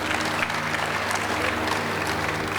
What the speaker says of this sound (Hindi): इस बच्चे के लिए तो जोरदार तालियां हो जाएगा।